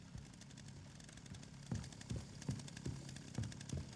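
A revving chainsaw in Resident Evil Requiem buzzes steadily beneath a busy mix of game sounds, with a few sharp bursts punctuating the drone.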